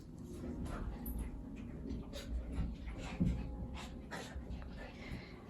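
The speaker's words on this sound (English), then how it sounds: "the dogs are going crazy" Dogs pant quickly and rhythmically nearby during machine knitting, with a few faint whimpers and snorts, fairly quiet against a soft background rustle.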